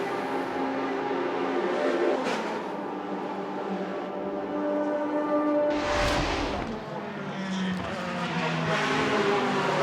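Race cars at the FIA WEC 6 Hours of Nurburgring, engines droning and one car roaring closely past midway, with a commentator talking over the track noise.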